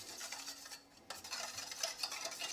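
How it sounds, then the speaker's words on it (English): A whisk scrapes and swishes briskly in a bowl of olive oil, lemon juice and Dijon mustard dressing, making a soft, steady rhythmic stirring close by with a brief pause partway through. "Give it a whisk"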